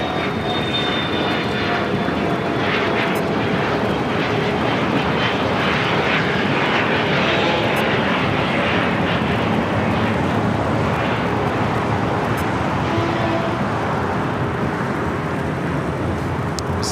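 Boeing 747-400ER freighter roars down the runway at LAX on takeoff, a loud sustained jet thunder filling the whole stretch with broad rumbling noise and no voices.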